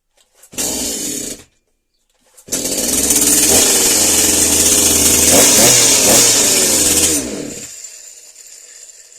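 Petrol chainsaw fired up after a starter and throttle trigger spring repair: a short first burst, a pause, then a loud sustained run with revving swells before the engine winds down, close up and with no talk.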